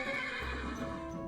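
A horse in the Minecraft video game whinnies in one quavering, drawn-out neigh with a low rumble underneath, clear and close without talk over it.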